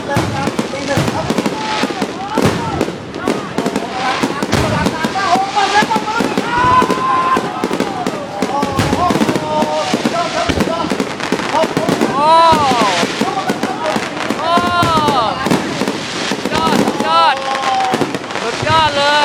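Fireworks at a 2020 New Year countdown celebration at Ao Makham Pom in Klaeng, Rayong, Thailand, crackle and boom in a dense, nonstop barrage with whistling rockets, loud and close, while a crowd cheers and talks underneath.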